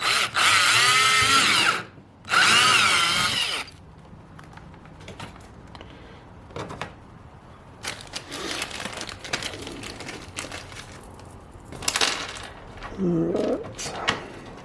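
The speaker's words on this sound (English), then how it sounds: "Screw this or drill this hole." A power drill whirs loudly in two bursts of about two seconds each while drilling a hole to install tracks on a kayak, followed by quieter clicks and handling noises.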